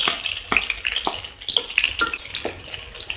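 Chopped onions fry in hot oil in a kadai, giving a soft crackling sizzle broken by repeated stirring scrapes and clinks close by.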